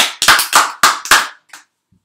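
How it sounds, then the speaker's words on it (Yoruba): A short burst of about five sharp, quick hand claps from a group of children, close and loud, followed by a faint final clap and silence. "Ẹ pàtẹ́wọ́ fúnra yín."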